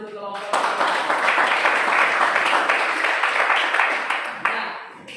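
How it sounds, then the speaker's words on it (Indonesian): Classroom applause for a student group: many hands clapping together in a dense, lively burst that starts abruptly, holds steady, and tapers off after about four seconds. "berikan tepuk tangan untuk kelompok 3"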